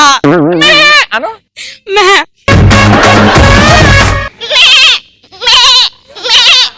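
A person imitates a goat, voicing a series of loud, wavering bleats in short bursts with brief pauses, and a noisy stretch of crowd sound breaks in midway.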